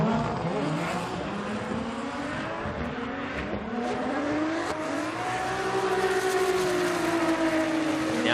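A Formula Drift Japan car, a GR Supra or GR86, held against the limiter at high revs, a loud buzzing engine note that wavers and climbs, with distant crowd and track noise underneath.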